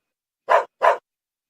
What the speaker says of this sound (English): Who brought the dogs out?